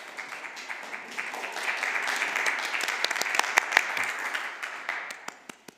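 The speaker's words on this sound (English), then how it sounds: "And big applause for the whole green team." Sustained applause from an audience at a town of Westfield annual organization meeting, honoring the green team: a dense, steady wash of clapping with sharper individual claps standing out, continuing for several seconds before tapering off.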